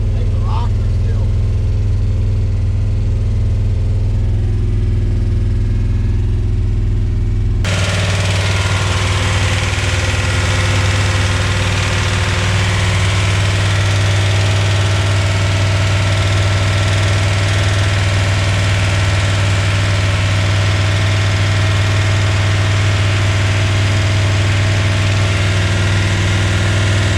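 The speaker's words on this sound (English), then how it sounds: "Lifter sound really noisy." A 1973 Dodge Dart four-door with an LA 360 V8 idles loudly and steadily. Its noisy lifters tick through a deep rumbling drone that steps up in intensity after a few seconds and then stays rough and constant.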